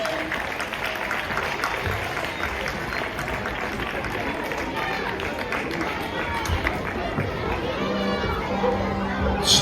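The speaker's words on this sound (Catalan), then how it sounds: "un fort aplaudiment per als alumnes de 6è de primària" Applause rises for the sixth-grade primary pupils after their song at a school solidarity concert. Clapping mixes with crowd chatter, children's shouts and nearby voices, swelling slightly toward the end.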